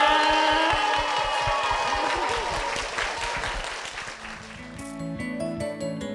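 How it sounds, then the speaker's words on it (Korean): A church congregation claps in blessing for a couple, a dense round of applause loud at first and gradually thinning, giving way to music toward the end. "우리 축복의 박수 부탁드리겠습니다"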